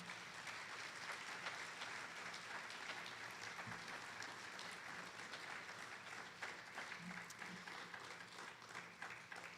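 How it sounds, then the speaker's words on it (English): A seated audience gives a round of applause at a live event at a cultural center, with dense, steady clapping that stays loud and even for the full length and has no talk over it. "So please give them a round of applause."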